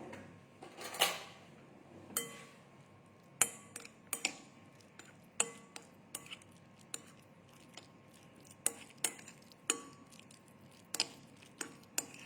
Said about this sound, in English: All the colorful stuffing will go in